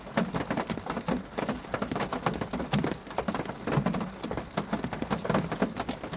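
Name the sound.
rain on a car windshield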